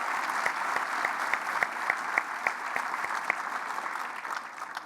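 An audience at an Ontario economic plan event applauds steadily for about five seconds, a dense, even wash of clapping with a few sharper claps standing out and no talking over it.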